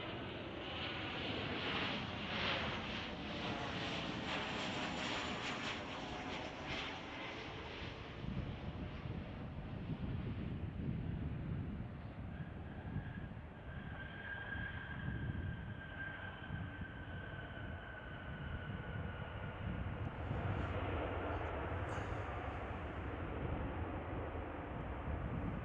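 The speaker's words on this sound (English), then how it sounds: "Got another flight coming in from Puerto Vallarta." An American Airlines jet arriving from Puerto Vallarta lands at Chicago O'Hare, a long, fairly faint engine roar heard from a distance whose pitch sweeps downward, then a thinner whine as it passes.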